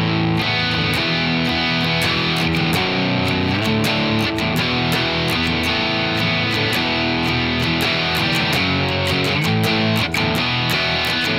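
Electric guitar with heavy distortion plays the chorus of a song, sustained strummed chords ringing continuously for over ten seconds, loud and dense, with no talking.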